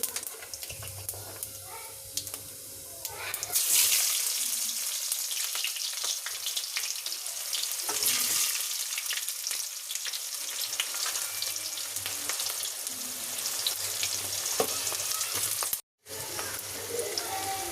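Onions and cumin fry steadily in a hot pan, giving a dense, continuous sizzle close to the listener. A brief dropout near the end interrupts the sound.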